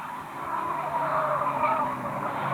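Racing cars at a Fleet Old Boys meeting sweep past on the track in a steady, loud engine roar with tyre noise, the field passing close in race order.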